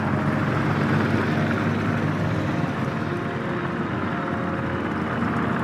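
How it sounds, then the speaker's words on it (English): An enemy plane flies in the naval battle game World of Warships, a steady, dense engine drone that holds loud and even throughout, with no talking. "Here we have an enemy plane that's going to shoot down some of our allied planes."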